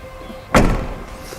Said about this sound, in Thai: ประตูหนักใช้ได้เลยเหมือนกันนะครับ บานใหญ่แล้วมีน้ำหนักพอสมควรครับ